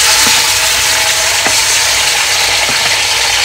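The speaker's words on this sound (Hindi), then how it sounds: "अभी हम ये इसके अंदर ये चिकन ऐड कर रहे हैं तेल के अंदर।" Chicken pieces frying in hot oil on high heat for biryani, a loud continuous close sizzle with a few faint clinks of stirring.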